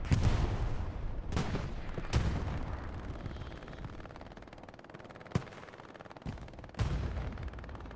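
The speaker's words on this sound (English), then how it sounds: "This is going to be a pretty good bombing run for RF." Artillery shells and rockets pound the battlefield in the video game Hell Let Loose, with several sharp, heavy blasts spaced over a steady rumbling din and no voices.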